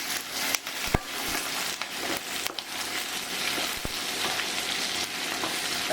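Onions fry in a pan with a dense, steady sizzle while a spoon stirs them, adding a few sharp scrapes and knocks against the pan; nothing else is heard.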